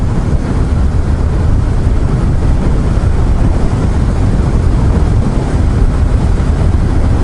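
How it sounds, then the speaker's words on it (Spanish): Strong wind buffeting a microphone while riding a motorcycle in open country, a loud, constant low roar and rumble with no gaps or voices throughout. "hay un viento bastante fuerte para la moto"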